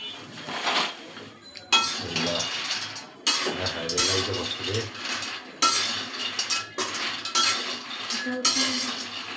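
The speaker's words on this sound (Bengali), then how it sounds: "বালু ছাড়া কিভাবে বাদাম ভাজতে হয় সেটা শিখে রাখুন। এইভাবে আনলিমিটেড নাড়াতেই থাকবেন" Peanuts being dry-roasted in a pan without sand, stirred in bursts of scraping and rattling with short pauses between, loud and close, the nuts clattering against the metal with no talking.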